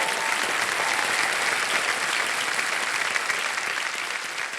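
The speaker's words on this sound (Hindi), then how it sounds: "तालियां बज जाएं इनके लिए" A studio audience at a televised quiz show breaks into loud, dense applause that stays steady throughout and fades slightly at the end, with no voices over it.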